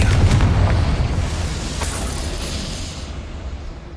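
A Bombarda spell blast in Hogwarts Legacy on PC, a loud booming explosion with a heavy low rumble that decays slowly over several seconds.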